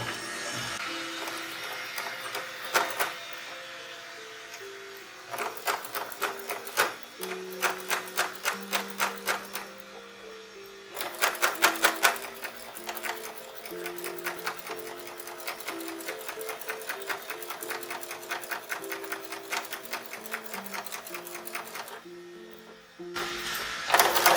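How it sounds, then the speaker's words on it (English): A sewing machine stitches in the ditch along a binding seam on a toddler dress, rapid mechanical stitching in repeated bursts with short pauses between runs, close and alone. "I'm just machine stitching it in the very ditch"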